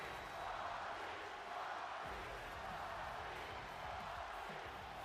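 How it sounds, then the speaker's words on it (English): An arena crowd chants Rocky in WWE 2K22, a dense, distant-sounding roar of voices with a loose rhythmic pulse running steadily throughout at low level. "As the crowd chants Rocky."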